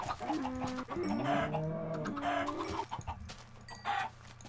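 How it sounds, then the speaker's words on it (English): Minecraft chickens cluck and squawk in a busy, overlapping stream, close and fairly loud, with no talking. "Let's murder a bunch of chickens, actually."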